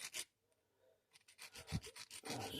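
Metal bolt screw from a Pietta 1860 Navy revolver being polished by hand, giving short, close rubbing and rasping strokes in irregular bursts with brief pauses, quiet and alone.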